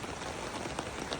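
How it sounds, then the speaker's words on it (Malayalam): Heavy rain pours steadily beside the Meenachil river, a dense, close, even hiss of drops hitting surfaces with no break. "നല്ല മഴയുണ്ട്, വെള്ളം കൂടിക്കൊണ്ടിരിക്കുകയാണ്."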